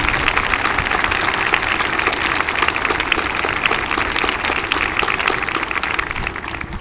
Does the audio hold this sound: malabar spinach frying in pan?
no